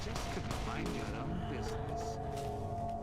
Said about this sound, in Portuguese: Onde é que você tá atirando aí?